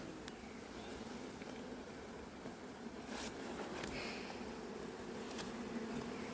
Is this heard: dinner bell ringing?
no